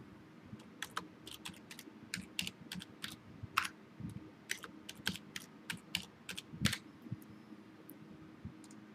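Keys tapped on a computer keyboard while a password is entered for a Windows 8 Enterprise administrator account: quiet, close, irregular clicks in short bursts with brief pauses over about nine seconds.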